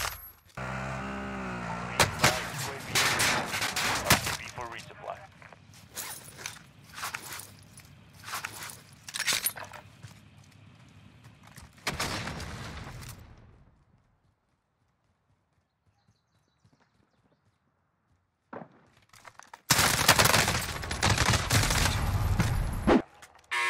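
Bursts of CR-56 AMAX rifle fire in Warzone, loud close volleys with clattering mechanical noise, a quiet lull in the middle, then another dense burst near the end.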